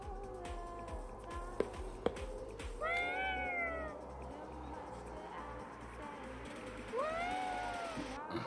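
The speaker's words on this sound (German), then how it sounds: "Ist das eine Katze?" A Yokai cat in Ghostwire: Tokyo meows twice, a rising-falling cry near the start and another toward the end, set against a low steady background hum.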